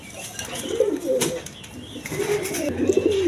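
Healthy pigeons, a pair kept for sale, coo in soft repeated low calls, with a brief flutter of wings partway through, close by.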